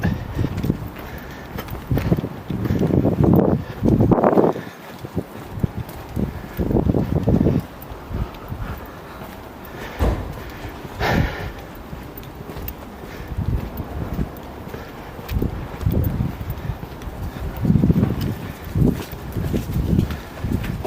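Strong wind buffets outdoors at Châtelet near Charleroi in irregular gusts, rumbling and roaring against the microphone over about twenty seconds, with occasional thumps and rustles.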